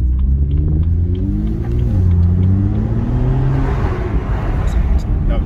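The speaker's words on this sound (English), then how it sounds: "That was light revs." BMW M2 engine in comfort mode revving lightly, a close, deep rumbling drone that rises and falls in gentle blips with a low grunt, steady throughout.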